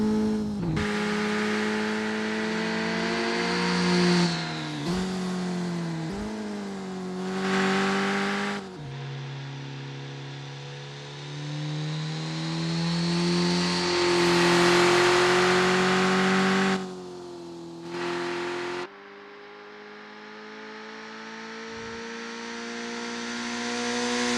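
1992 Mazda AutoZam AZ1 kei race cars lapping Tsukuba Circuit in Assetto Corsa, small engines revving high and shifting through gears, whining up and dropping back in repeated surges, loud and close throughout.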